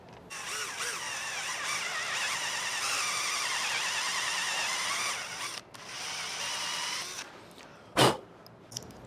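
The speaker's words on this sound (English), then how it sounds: "These might have to be drilled out too because of the powder coating." A power drill whines steadily for several seconds while drilling out rivets on a powder-coated Sherpa Grizzly roof rack for a Tundra, pausing briefly and starting again, then ends with a sharp clack.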